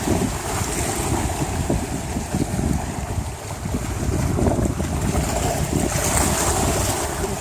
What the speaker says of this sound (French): Aujourd'hui, c'est une journée donc assez venteuse.